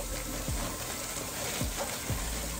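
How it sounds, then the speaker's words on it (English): Vegan burger patties fry in a pan for a home cheeseburger dinner, giving a steady, close sizzle with a few soft stirring or scraping touches and no talk. "These are frying."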